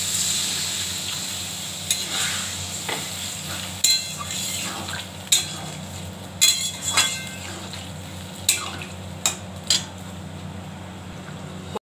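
Curry broth simmers in a pan holding fried fish and potatoes, with a low steady bubbling hiss while a utensil scrapes and clinks against the pan in scattered strokes.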